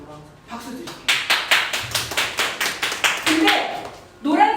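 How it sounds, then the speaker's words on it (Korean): An audience at a Korean leadership lecture claps in a quick, even burst of about a dozen sharp claps, with a speaker's voice heard before and after. "박수 드릴게요"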